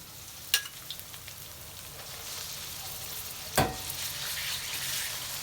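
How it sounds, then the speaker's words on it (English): Beef hits hot oil infused with chili and sizzles in a continuous frying hiss, with two sharp utensil knocks against the pan early and midway as it is stirred, close and without speech. "So once it's broken sweat, we add the beef."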